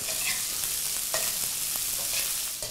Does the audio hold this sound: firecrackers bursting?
no